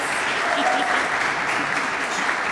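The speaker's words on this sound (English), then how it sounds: "So big round of applause for Jennifer." Audience at an Optimist Club program meeting claps steadily for the committee chair, a dense, continuous round of applause from an indoor crowd, with faint voices mixed in.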